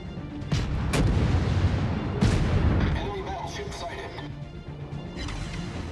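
Several heavy booming blasts of naval gunfire from the video game World of Warships, from the cruiser Omaha, crash out, the loudest near the start and middle, under steady rumbling and a voice talking.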